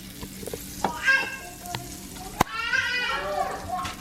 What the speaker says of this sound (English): The key with these burgers, you want to sear them on both sides first.